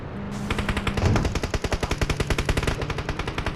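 An automatic rifle sprays sustained fire in the mobile battle royale game PUBG Mobile: a loud, rapid, evenly spaced string of close gunshots that runs continuously from start to finish with no one speaking.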